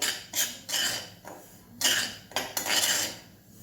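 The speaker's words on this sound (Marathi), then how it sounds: "छान ढवळत राहायचे खालीवर करून व्यवस्थित असा भाजून घ्यायचा आहे रवा" Semolina (rava) roasting in a pan while a metal spoon scrapes and clatters against it, in a few irregular bursts of bright scraping, close and moderately loud, with no talking.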